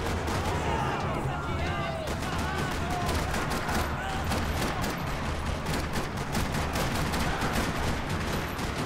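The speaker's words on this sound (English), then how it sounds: "Another parking lot rattling with gunfire." Gunfire rattles across a parking lot in the video game Max Payne 3, dense overlapping shots and bursts filling the whole stretch loudly alongside a constant roar, with voices mixed in underneath.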